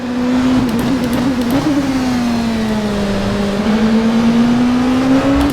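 An Oreca 07 LMP2 race car engine in rFactor 2 at the Daytona road course drones loud and steady, holding a sustained tone that sags and then climbs gently, heard from the cockpit with nothing else over it.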